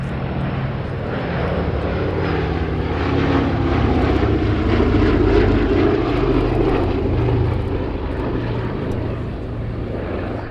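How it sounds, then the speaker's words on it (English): The B-17G Flying Fortress Sally B makes a pass at the Cosford Air Show, its propeller engines a deep, droning roar that swells toward the middle as it nears and then gradually fades, heard continuously from a distance. "Final run for the B-17G Flying Fortress, Sally B."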